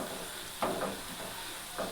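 Potato chips frying in hot oil, a steady broadband sizzle with louder bursts as slices are dropped in one at a time, close by with no talking.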